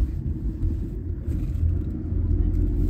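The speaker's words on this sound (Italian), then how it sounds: "Si guida molto bene nel percorso cittadino come stiamo facendo" A Volkswagen Polo 1.2 TDI diesel drives through city traffic, its low engine rumble and road noise steady and close throughout, with no talk over it.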